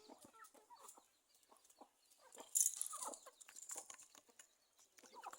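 Chickens feeding on rice scattered near a clay stove make soft, scattered clucks and pecking sounds, faint and close, with a brief flutter of movement partway through.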